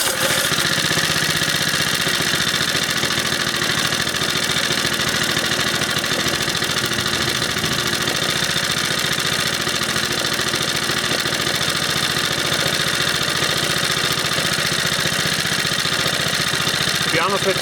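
A Briggs & Stratton 2 hp small engine with a broken fan blade runs steadily and loudly throughout, giving a rough, rattly mechanical drone with no pauses.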